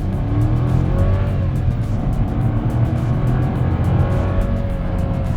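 A Hyundai's three-cylinder engine accelerates, heard from inside the cabin as a steady, loud droning rumble with a faint rising whine, with no talk over it.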